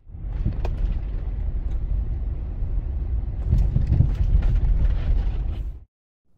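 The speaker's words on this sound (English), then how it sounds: "Here's the noise I was hearing while driving over bumps" A 2004 Honda Pilot with a worn front strut drives over bumps, producing a continuous low rumble from inside the cabin. Knocks and thumps come through it, heaviest near the middle, before the noise cuts off abruptly.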